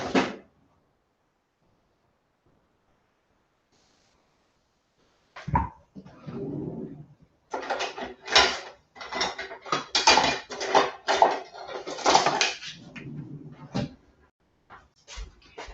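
MicroPro grill cookware clatters in a kitchen with sausage cooking, bursts of clanking and scraping handling after a long quiet stretch, fairly close and uneven.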